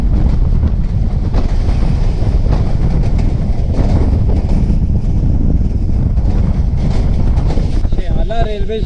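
Tezgam express train rolling on rails at reduced speed near a bridge under construction, with a steady loud rumble, wind buffeting and clatter throughout; a faint voice comes in near the end.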